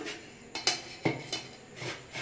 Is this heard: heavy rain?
no